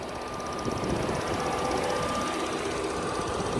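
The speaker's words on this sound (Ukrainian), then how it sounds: "цокотить клапан от сорби, ось він знаходиться" A Volkswagen Golf 4 with a 1.6 MPI engine idles steadily under the bonnet, its adsorber valve giving a faint, rapid, regular ticking within the continuous engine hum.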